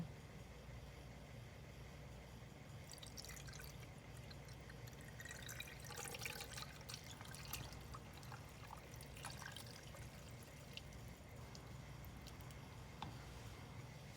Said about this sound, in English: And now we're just going to pour our brine right in.